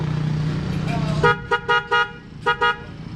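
A car horn toots five times in two quick bursts, loud and close, after a low rumble with some voices at the start.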